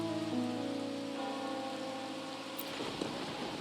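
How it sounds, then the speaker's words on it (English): Steady rain patters on a surface in the video game Wuthering Waves, a soft continuous hiss with faint tonal background music, no voices. "Or are you simply passing the time until the rain ends?"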